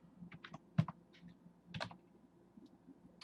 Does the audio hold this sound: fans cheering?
no